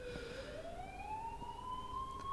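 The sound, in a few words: ambulance siren in a video game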